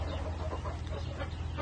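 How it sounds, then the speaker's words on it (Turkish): Black and white bantam Cochin chickens cluck softly nearby, a few short overlapping calls over a low background hum. "Bugün sizlere cüce koşinlerimizi tanıtayım."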